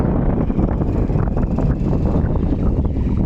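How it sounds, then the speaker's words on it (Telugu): Strong wind gusts buffet the microphone at the embankment of Ramappa lake in Telangana, a loud, rumbling, continuous roar with rough low-frequency flutter and no clear speech. "ఫుల్ గాలి వస్తుంది ఫ్రెండ్స్"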